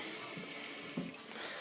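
Water runs steadily from a tap during a home brew day, a constant hiss with a small clunk near the middle, fairly close and alone.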